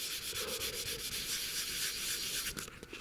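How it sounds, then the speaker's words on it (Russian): A matte-painted car part is hand-sanded with 1000-grit abrasive, making a steady, close, rasping rub in continuous back-and-forth strokes that slow near the end. "Трется хорошо, абразив не забивает."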